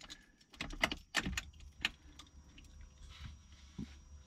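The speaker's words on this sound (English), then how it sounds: "And now when I turn the key" Key turned in the ignition of an E36 BMW with an LS engine swap, a few metallic jingles and clicks of the keyring near the mic, with faint background hum and no engine cranking.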